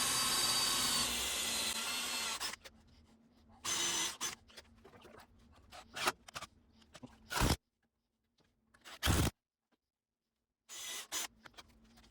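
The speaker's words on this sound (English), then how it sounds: "I decided to pre-drill the holes for these." A power drill whirs in several short bursts with pauses between, loud and close, pre-drilling holes in wood for an outdoor drink table, with quieter handling noises in between.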